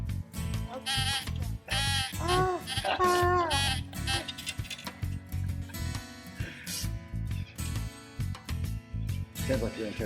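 A person imitates a sheep, voicing a series of wavering bleats in short bursts, mixed with voices talking nearby.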